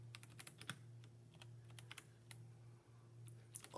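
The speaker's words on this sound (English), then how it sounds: "Why am I typing like this?" Quick, uneven keystrokes patter on a computer keyboard in close, dry bursts of clicks, with a low steady hum underneath and no talking.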